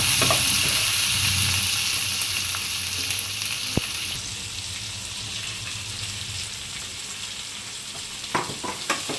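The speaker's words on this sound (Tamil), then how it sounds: "எடுத்து நல்லா வதக்கி விட்டுக்கணும் வெங்காயம் வந்து நல்லா வதங்கி வரணும்" Half a kilo of large onions sautéing in a pan for tomato thokku, giving a steady, loud sizzle and frying hiss throughout, with a few stirring scrapes near the end.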